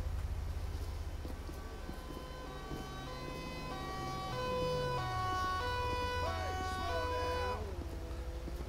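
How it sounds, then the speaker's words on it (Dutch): A fire engine siren in the video game GTA 5 wails in rising and falling sweeps, growing louder mid-way, over a low engine rumble, with radio chatter and voices talking in the background. "Gekke brandweersirene."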